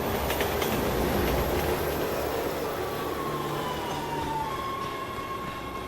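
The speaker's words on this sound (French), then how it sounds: "Ok, le train s'arrête." A subway train in Resident Evil 6 rolls in and slows to a stop, a loud steady rumble of wheels on rails with a rising metallic squeal of braking near the end, and no speech.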